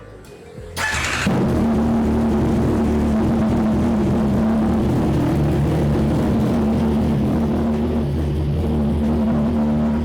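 A CFMOTO 675SR-R motorcycle engine cranks and fires after a quiet moment, then settles into a loud, rough running note with rising and falling revs that carry on to the end, close to the listener.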